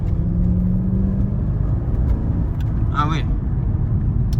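A Mercedes SLK 55 AMG in sport mode drones with a steady, loud engine rumble from inside the cabin, with a brief shift-like change as gears are swapped by paddle, while someone speaks briefly.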